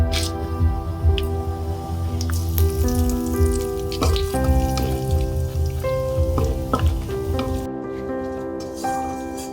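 Bay leaf, dried chillies and whole cumin seeds sizzle steadily in hot white cooking oil in a pan, with a continuous frying crackle and scattered pops throughout and a background hum, no talk.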